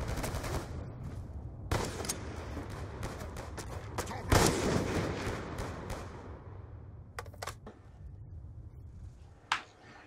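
Gunshots in a shooting video game: several sharp bursts of gunfire spaced across the stretch, one louder blast near the middle, with faint game background between shots.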